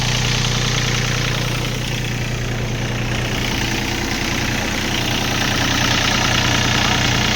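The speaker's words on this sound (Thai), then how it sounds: "เครื่องดีไม่มีอายสามสูบค่ะ" A used Yanmar 39 hp three-cylinder tractor engine idling nearby, a loud steady low rumble with constant vibration and no pauses, with someone talking faintly over it.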